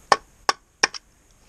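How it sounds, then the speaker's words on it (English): Dry firewood rounds knock together outdoors, three sharp hollow wooden clacks spaced evenly and a lighter fourth tap, crisp and close with quiet between strikes. "That is the sound of dry wood."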